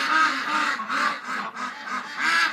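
Ducks quacking close by in winter in a quick, repeated series of nasal calls that overlap without pause.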